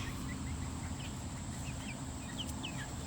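Chickens and baby chicks cluck and peep in scattered, quick, high chirps over a constant low rumbling background, fairly faint and at a little distance.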